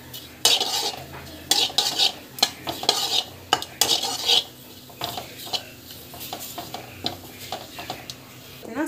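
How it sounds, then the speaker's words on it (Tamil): Ingredients for temple-style Iyengar puliyogare being roasted in a pan, with a utensil clattering and scraping against the metal in uneven bursts over a light sizzle, heard up close. "நல்லா வந்து இந்த அளவுக்கு வந்து வறுந்துடணும்"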